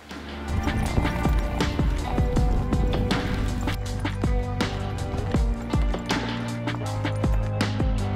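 Several horses run with rapid, loud hoofbeats clip-clopping in an irregular rhythm, close and continuous throughout, while riders set out in the open after a caribou herd.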